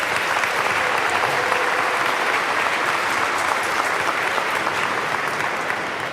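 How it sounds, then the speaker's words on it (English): A large audience applauds the parents at the Robert Treat Academy 20th annual commencement ceremony, with dense, steady clapping that stays loud and even for about six seconds and has no talk over it. "Let's give them a round of applause."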